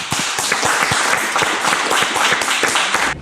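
Audience applause at a startup pitch event, a dense, steady wash of many hands clapping close and loud for about three seconds, with no talking over it.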